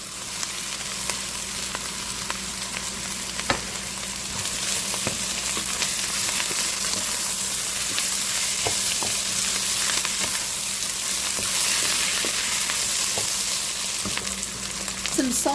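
Potatoes frying and being stirred in a pot for a lemon artichoke soup, a steady close sizzle with occasional scrapes and stirring clicks, no voices.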